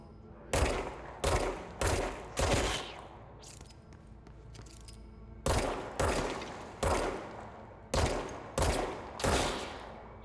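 Gunfire from the video game Control: sharp, loud single shots in two clusters, four quick reports, a brief pause with fainter rattling, then five more evenly spaced shots, each with a short decaying tail.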